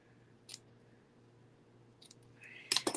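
Scissors snipping craft pieces shorter, a few quiet crisp clicks spaced apart and then a quick cluster of louder snips near the end over a low steady background hum.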